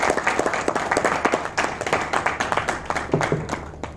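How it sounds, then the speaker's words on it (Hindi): An audience in a training session breaks into steady, fairly close clapping of moderate loudness that carries on through the whole stretch without voices over it. "एक बार तालियों से स्वागत।"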